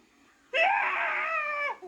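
A high, sustained scream from a frightened Ernie in a 1986 Sesame Street audiobook about fear of the dark, loud and alone for about a second after a quiet pause, then trailing off.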